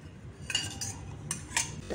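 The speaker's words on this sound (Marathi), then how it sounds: "ती आता आपण ह्या मसाल्यात मिक्स करून घेऊ." A metal spoon stirs coarse roasted fenugreek into a mango pickle spice mix, clinking and scraping against a vessel in a few short, close, light taps over a quiet background.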